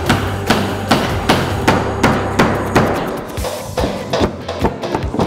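A hammer driving a nail: a rapid, loud, evenly paced series of about a dozen sharp strikes, close by, then a few quicker, irregular taps.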